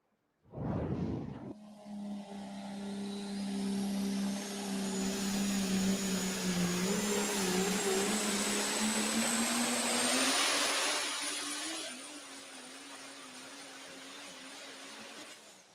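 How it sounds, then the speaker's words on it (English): A Dodge super stock diesel pulling truck roars at full load through a pull at Fort Recovery, Ohio, with a loud, steady high-revving drone and a whining tone that climbs before easing off near the end. "Nice pass there from the Kenton, Ohio, Shane Kellogg and the Trump Dodge on our super stock diesel trucks."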